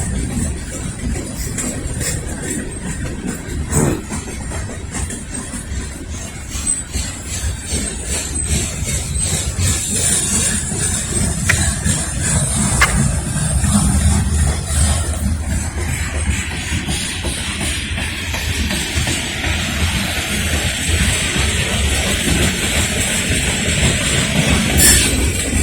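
A northbound Norfolk Southern freight train of boxcars rolls past at Lynchburg, Virginia, a steady rumbling and clattering of wheels on rail that grows louder through the pass, with occasional metallic squeals and no talking.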